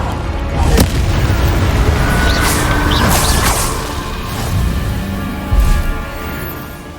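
A Confringo spell in Hogwarts Legacy goes off as a heavy booming blast with crashing debris and whooshes. Several loud thuds and rumbles repeat through a dense, continuous battle din, with no talk over it.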